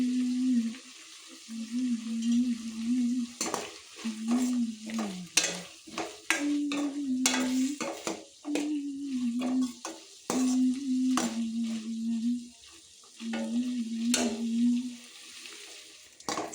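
Okra palya with grated coconut being stirred in a pan, with a steady frying sizzle and repeated scraping strokes of a spoon against the pan. No one speaks.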